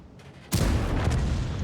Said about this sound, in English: I wanna push this guy, but I hear an explosion.